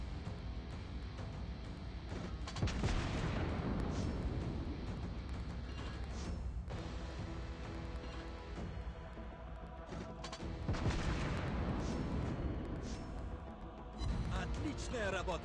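Naval gunfire in the World of Warships Blitz game, the cruiser Königsberg firing, comes as loud booming salvos around 3 s and 11 s with rumbling tails over a continuous battle din.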